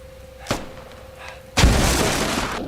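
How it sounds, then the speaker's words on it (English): A grenade detonates in the tactical shooter Squad: a small sharp crack first, then a loud, close blast with a booming rumble that trails off slowly. "Another nade."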